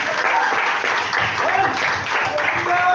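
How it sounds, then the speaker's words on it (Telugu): An audience bursts into applause, a dense, steady wash of many hands clapping that stays loud and unbroken for about three seconds. "అందరు చప్పట్లు కొట్టండి."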